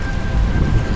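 Steady rain with a deep rumble of thunder from a desert summer thunderstorm, loud and continuous throughout with no voices.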